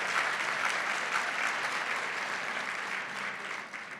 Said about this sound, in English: Please give a round of applause to our MEA staff and our conference staff and committee.